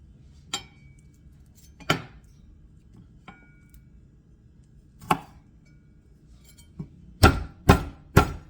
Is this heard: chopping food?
yes